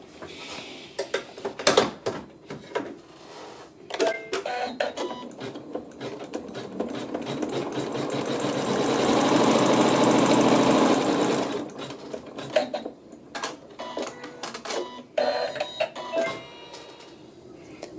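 A sewing machine sews a tack-down seam on fabric with a steady, close mechanical stitching whir. It speeds into one longer continuous run midway, and light clicks and fabric handling sound between stretches.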